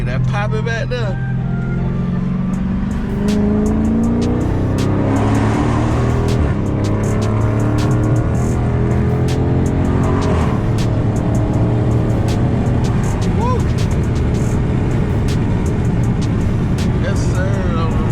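A car's exhaust pops and crackles in quick bursts close by as it is driven, over a steady engine drone that rises and falls with gear changes throughout.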